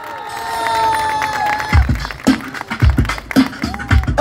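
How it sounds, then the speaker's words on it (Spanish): An open-air summer concert crowd at Parque Laguna Redonda in Concepción, Chile, bursts into cheers and shouts after a band's set, loud bursts of clapping and yelling rising over a fading musical tone. "y nuevamente fuerte el aplauso."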